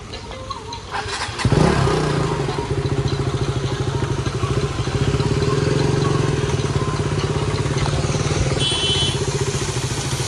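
A motorcycle rides through full rain between North Lakhimpur and Dhakuakhana. The engine catches abruptly, then settles into a steady, close, loud rumbling chug that continues to the end, with no talk.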